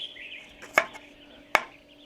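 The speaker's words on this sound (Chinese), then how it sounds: "切点大蒜，等一下炒青菜用" Garlic being chopped with a knife on a board: two sharp, separate chops roughly three-quarters of a second apart, close and loud over quiet background hum.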